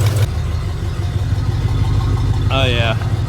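A 1972 Chevrolet El Camino engine idles steadily with a low, constant rumble and an exhaust leak, heard close up inside an enclosed space, with a brief voice partway through.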